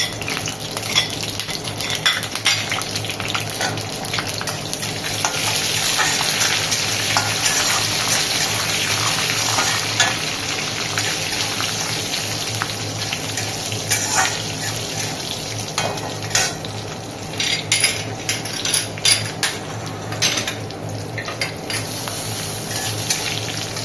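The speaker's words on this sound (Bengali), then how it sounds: "এবার জিরা কালো জিরাটা ভাজা ভাজা হয়ে গেছে।" Cumin, nigella seeds, dried and green chillies and a bay leaf fry in hot oil, giving a steady close sizzle with faint spoon and pan clinks for the whole stretch, no talking.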